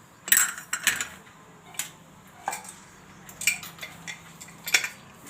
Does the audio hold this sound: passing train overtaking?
no